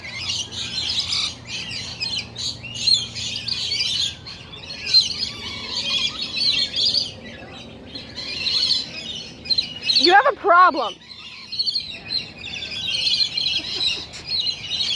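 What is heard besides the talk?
pet bird chirping and calling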